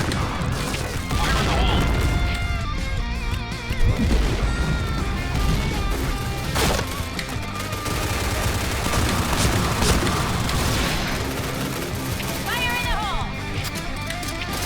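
Grenade explosion in the Point Blank first-person shooter, set within a loud, continuous mix of gunfire, crashes and booms from the match, with a player talking over the action.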